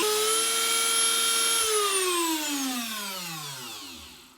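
A Dremel rotary tool mounted in a workstation sands a curved wooden edge, giving a steady high-pitched whine that holds briefly, then drops in pitch and fades as it spins down; no talking.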